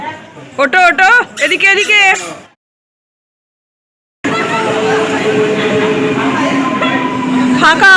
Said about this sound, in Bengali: এসে গেছে আমাদের ট্রেন